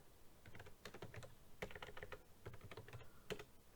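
Fingers typing PHP code on a computer keyboard, a quick irregular run of close, crisp key clicks in short bursts, heard alone and quietly.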